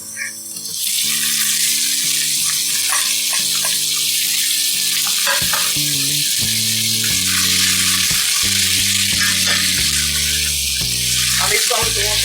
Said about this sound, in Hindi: अब इसको हम 2 से 3 मिनट तक फ्राई करेंगे